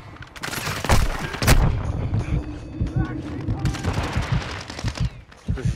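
Gunfire in Call of Duty: Modern Warfare II Warzone: sharp bursts of automatic fire and single shots crack through the clip, with a heavy boom near the start. Players talk over the shooting throughout.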